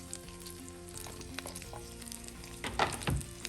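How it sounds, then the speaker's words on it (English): Onions and peppers sizzle in hot oil in a pan, a steady close frying hiss with crackles, rising briefly louder near the end as the vegetables are stirred. "Once your oil is heated, you're going to add in your onions and your peppers."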